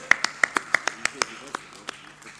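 Scattered clapping at a student of the year finals, a dozen or so sharp, distinct hand claps from a few people, close and uneven, thinning out toward the end.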